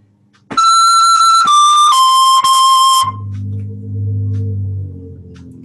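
A high, pure-toned woodwind plays an appoggiatura on the note above, then steps down through a few sustained notes before a lower, buzzier tone takes over, loud and close.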